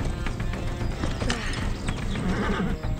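A horse whinnies loudly amid steady clip-clopping hooves in the video game Far Cry 6, a busy, dense soundscape with rumbling background.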